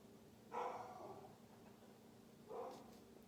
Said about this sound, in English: Do you hear my dog barking in the background?